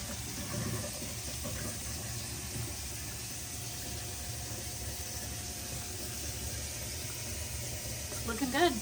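Hot water runs steadily from the tap of a newly installed bathroom vanity sink, giving a constant soft hiss and splash that holds at the same level throughout.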